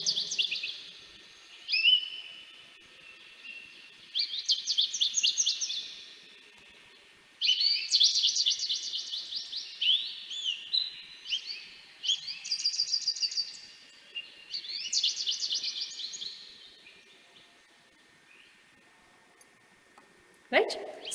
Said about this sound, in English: let's listen first to the beautiful sound of goldfinch